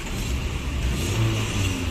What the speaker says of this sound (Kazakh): Бирок мотору сонун иштейт экен.